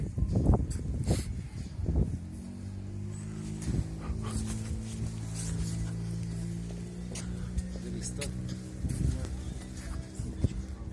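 Dogs barking and whining nearby, a few sharp barks early on, then whimpering and a drawn-out howl, with more barks near the end.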